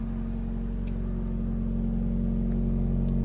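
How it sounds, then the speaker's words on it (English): Toyota GR86 fitted with an AWE Touring Edition catback exhaust, running with a steady, loud low engine drone and a slight swell in revs; no talking. "so far so good with this exhaust, except for the cold start. It's crazy loud"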